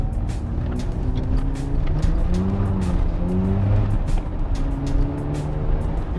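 Mazda RX-7 FD with a rotary engine cruising at 100 km/h, heard from inside a fairly quiet cabin: a steady engine drone with shifting tonal hum, low road rumble and light wind noise, continuous and even throughout, no voices.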